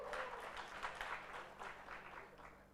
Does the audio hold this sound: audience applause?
yes